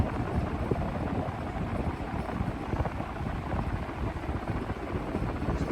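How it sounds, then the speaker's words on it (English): A vintage 48-inch Winco Wattmaster industrial ceiling fan that sat unused for years runs with worn bearings, giving a steady, dense whirring rumble that fills the space evenly and continuously, with no speech. "The bearing noise, it's mostly related to the fact that this fan hasn't ran in years"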